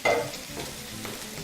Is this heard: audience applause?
no